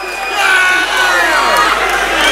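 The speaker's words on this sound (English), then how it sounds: "the crowd is on their feet right up against the fencing here, right stage side, cage side" A crowd stands at the cage fence during an amateur MMA cage fight, cheering and shouting loudly and continuously. The roar comes from close by, with excited yells rising above it.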